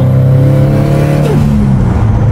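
A 2019 Subaru STI making about 700 whp with a Garrett turbo revs loudly up close, holding a strong harmonic engine tone before the revs drop away.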